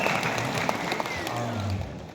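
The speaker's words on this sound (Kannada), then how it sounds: "ಇದು ಕೊಡಿರಿ ಚಪ್ಪಾಳೆ." An audience at a state-level rural development and panchayat raj officers' association gathering in Mysuru claps in a dense, steady burst of applause that carries on for a couple of seconds.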